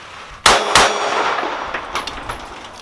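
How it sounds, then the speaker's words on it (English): An empty S&W Performance Center M&P9 pistol magazine strikes a hard surface with two sharp metallic clangs in quick succession, then a bright ringing decay with a few faint lighter taps afterward. "Empty magazine."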